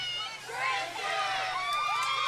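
The Crimson Robotics team voices a group cheer at the 2015 Maple Grove parade, rising shouts and chanted calls near a parade truck over a steady low engine hum, with crowd noise throughout.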